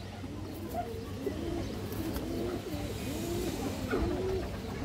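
A white male army pigeon gives a run of soft, rolling coos, up close and continuous over a low background drone.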